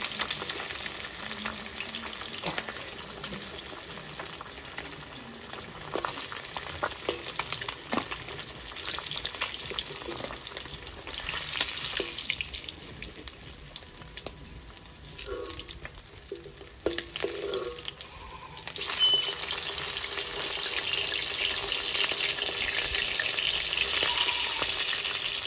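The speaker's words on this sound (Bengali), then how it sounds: "মাছগুলো লাল করে ভেজে নিয়েছি," Katla fish frying in hot oil in a home kitchen, a steady crackling sizzle that goes on throughout, with scattered clinks and splashes and the hiss swelling louder near the end.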